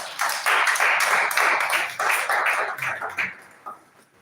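An audience at a stakeholders meeting on a school deworming program claps loudly in a burst of applause for Evidence Action, then tapers off into scattered claps.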